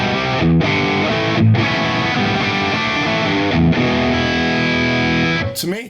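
Distorted electric guitar played through a Genome amp simulator with studio compression and reverb, a sustained chordal riff with brief gaps, loud and steady, no talking.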